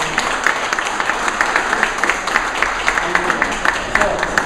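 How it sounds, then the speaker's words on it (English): An audience at a grand opening day event applauds, a steady patter of many hands clapping continuously at moderate loudness, with speech faintly present beneath. "So, so would you give her a round of applause,"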